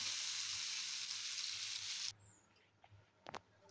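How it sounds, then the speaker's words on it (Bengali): Pasta frying lightly in a pan makes a soft, even sizzle for about two seconds, then cuts off, leaving quiet room sound and a few faint clinks. "ওই পাস্তাগুলোকে খুব হালকা করে ভেজে নেব"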